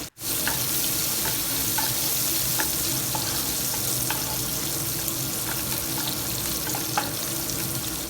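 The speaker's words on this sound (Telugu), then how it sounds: "చూడండి ఆనియన్స్ ఈ విధంగా మగ్గుతున్నాయి" Sliced onions with curry leaves and a pinch of turmeric soften in a hot pan, giving a steady close sizzle with scattered small pops and crackles throughout and no talking.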